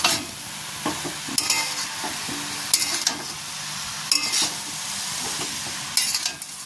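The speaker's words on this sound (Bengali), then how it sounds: "দেখুন, নাড়াচাড়া করে নিচ্ছি কিছুটা সময়, হালকা হালকা জল বেরোচ্ছে।" Khesari greens with tomato stirred in a hot pan, a steady sizzle under repeated scraping strokes of a spatula against the metal, with occasional clinks, close and fairly loud.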